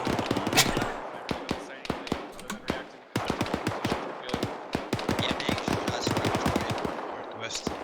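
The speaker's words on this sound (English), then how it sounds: "We got sporadic gunfire to our southeast in the compound we just cleared." Sporadic gunfire during a military simulation training exercise, irregular sharp shots and short rapid bursts cracking close by in uneven rhythm, with faint voices in the background.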